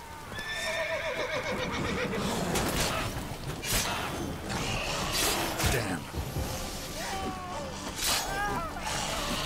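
Roach the horse neighs in The Witcher 3, with whinnies over hoof clip-clops and busy game sounds at moderate loudness.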